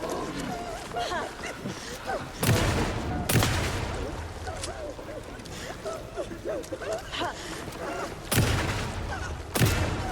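Gunshots ring out in the video game Alan Wake II, with loud sharp blasts at irregular intervals over a constant game soundscape while a voice talks.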